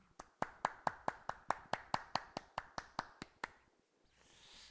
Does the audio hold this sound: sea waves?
no